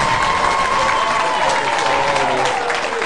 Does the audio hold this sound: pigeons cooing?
no